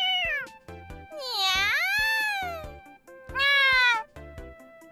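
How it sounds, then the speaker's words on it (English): Cats in the cat cafe of the video game Cafe Stella give several long, drawn-out meows, close and clear, some rising and falling in pitch. Short gaps with soft game sounds separate them. "Cats rub themselves all over Nozomi as if begging her to stay"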